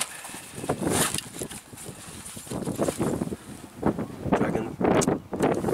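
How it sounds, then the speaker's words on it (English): Gusty wind buffets the microphone on an exposed Welsh mountainside, Skirrid Fawr, rising and falling in rough surges that rumble loudly and keep going through the whole stretch. "I think I'm just about hidden enough from the wind"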